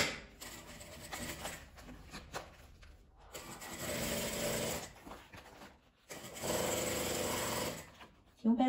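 Sewing machine stitching a zipper onto a clear plastic pouch, steady close whirring runs in bursts separated by brief pauses, with a quiet spoken voice in the background.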